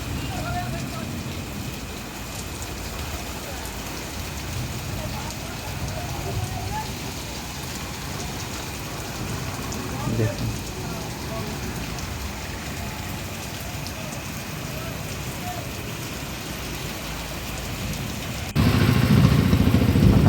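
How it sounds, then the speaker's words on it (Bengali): Heavy rain falling on a street, a dense steady hiss of downpour with a brief louder burst near the middle and a sudden rise in low rumble at the very end. "শুরু হয়ে গেছে জোরে বৃষ্টি এখন দুর্দর্শ বৃষ্টি হচ্ছে"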